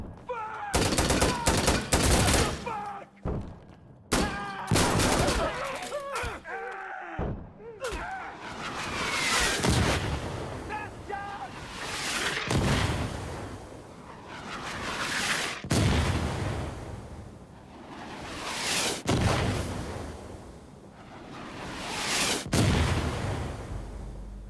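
Heavy gunfire rages in the video game Insurgency Sandstorm: dense rifle bursts and machine-gun fire crackle throughout, with repeated booming mortar and artillery impacts landing every few seconds, loud and close, while voices shout over the battle.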